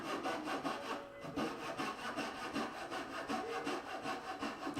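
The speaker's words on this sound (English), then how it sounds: "The coping saw here helps to remove waste in large quantities without having to chisel the entire bunch out." A coping saw cuts away waste wood between joinery pins, making a rapid, even rasp of back-and-forth strokes, close and continuous with no talk.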